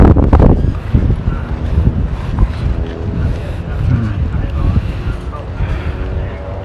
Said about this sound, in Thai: ลมเยอะจังเลยลมแรงนะ